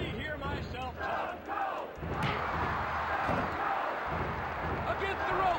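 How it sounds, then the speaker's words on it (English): Dense, roaring arena crowd from the WWF War Zone wrestling game on N64, a steady loud wash of cheering with a few thuds and slams mixed in, continuous throughout. "Listen to this crowd."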